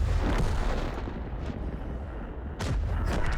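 Tank cannons firing in World of Tanks, heavy booming shots with rumbling low-end blasts, two or three distinct reports over continuous loud battle noise.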